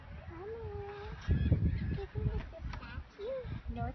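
A bird on a Pensacola beach gives several nasal, goose-like honks spread over a few seconds, close by, with people talking softly in between.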